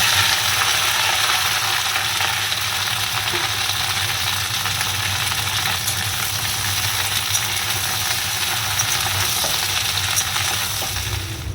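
Poppy seed paste cooking in a pan, a continuous even sizzle and hiss close by, steady and unbroken throughout with no voices.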